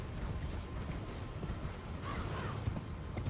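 Horse hooves gallop in Elden Ring, a steady dense clatter over continuous game noise, fairly loud and close throughout.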